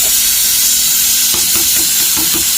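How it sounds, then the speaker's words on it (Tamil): Ghee rice bubbles vigorously in a pot, giving a constant loud hiss with a run of soft pops and blips near the end. "சோறு நல்லா கொதிச்சு வருது"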